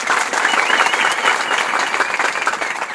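A loud, dense burst of audience applause at an evangelistic gathering in a prison, many hands clapping close and continuous throughout with no talking.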